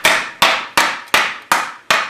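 Six hard, evenly spaced hammer blows ring out on a small engine's metal blower housing, each striking sharply and then fading before the next.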